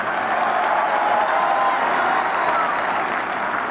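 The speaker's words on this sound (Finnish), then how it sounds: "Hänkin saa sieltä melkoiset suosionosoitukset" Stadium crowd at a football match applauds steadily as players are introduced, a dense, sustained wash of clapping from many spectators that holds at an even level throughout.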